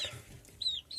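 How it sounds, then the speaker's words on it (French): Day-old chicks give a couple of short, high peeps close by against a quiet background. "là, hop, les poussins."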